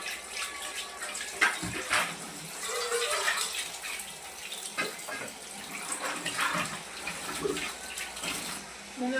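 Water runs from a tap while fish are washed in a home kitchen, with splashing and uneven gushing bursts close by and brief speech over it.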